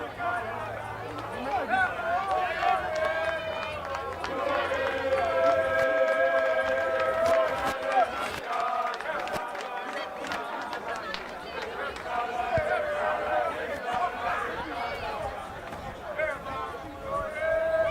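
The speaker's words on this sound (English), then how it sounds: "You can hear the crowds warming up, the singing, the entertainment, the support" Rugby match crowd at a Union Milnerton versus Durbel game, a steady roar of distant singing and cheering with a continuous babble of many voices.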